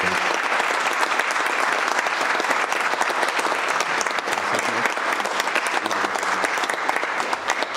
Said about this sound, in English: let's all give Shane a round of applause for his 15 years of dedicated service